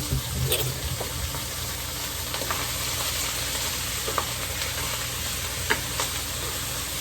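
Pork or chicken sautéing in a pan gives a steady, close sizzle of frying meat, with occasional stirring clinks and scrapes over the continuous crackle and no talking.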